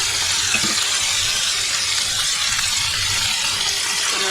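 Water poured into a pan of pabda fish curry with turmeric and chilli powder, a steady broadband gushing pour that runs continuously and fairly loud for several seconds, with no talk.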